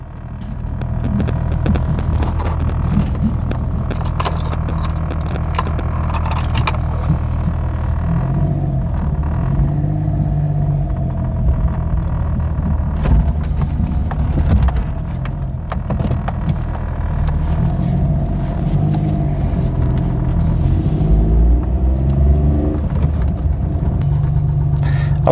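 A three-cylinder car engine idles at just over 1000 RPM in Gran Turismo, a steady, slightly rattly, uneven throbbing hum with low rumble that stays loud and continuous throughout.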